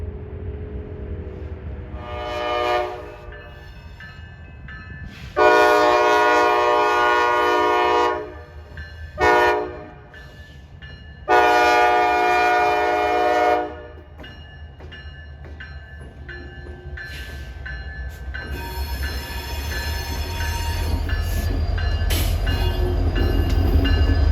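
Norfolk Southern eastbound freight train approaching in Pennsylvania, sounding a K5LA horn in several long loud blasts with short gaps, over a low rumble that grows steadily as the train draws near.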